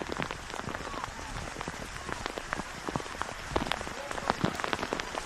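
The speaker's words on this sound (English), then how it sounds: "the rain continues to come" Steady rain pours down on an outdoor women's football pitch, a dense patter of drops hitting surfaces continuously, fairly close and even, with faint crowd murmur underneath.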